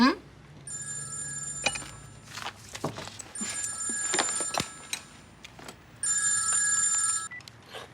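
Electronic telephone ringing in three repeated trills, moderately loud indoors, with people talking and moving around between the rings.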